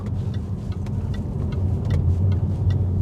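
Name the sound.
Jaguar XK X150 exhaust with XKR back box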